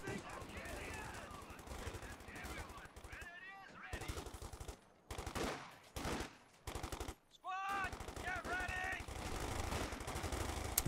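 Bursts of .50 cal machine-gun fire from the Company of Heroes 2 battle game rattle in rapid strings over a busy battlefield mix. Short pauses break the firing.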